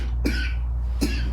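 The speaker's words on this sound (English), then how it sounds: "Excuse me, I have a cough here." Two sharp coughs from an adult, close and distinct, about a second apart over a steady low background hum.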